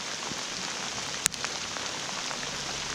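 Rain pours steadily during a fishing trip, a dense, even hiss of drops striking surfaces, with one sharp click partway through and no talking.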